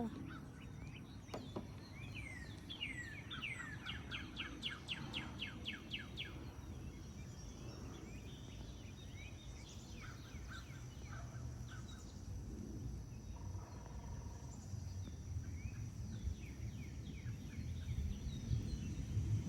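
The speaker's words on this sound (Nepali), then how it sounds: "चराहरू मजाले कराइरहेछ" Birds calling outdoors in the morning where kheer is cooking outside, with repeated chirps and harsh caws from several birds over a low steady background hum, some calls close and others farther off.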